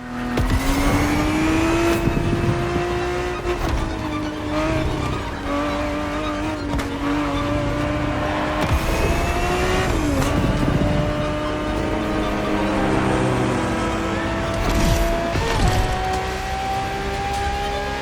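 A Ferrari 365 GTB4 engine roars through the racing game The Crew Motorfest, revving loud and sustained with rising and falling pitch through gear changes and occasional tire squeals.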